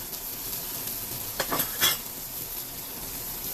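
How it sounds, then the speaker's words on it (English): Butter sizzling in a preheated pan on lowered heat, a steady hiss and crackle throughout with a couple of brief louder scrapes of stirring, close, no talking. "So we're just gonna let this butter melt really good."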